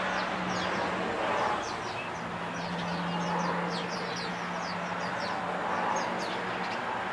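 A large flock of about thirty sparrows chirps busily from a bush near a feeder, many small overlapping calls forming a steady dense chatter at moderate distance, with a constant low hum underneath.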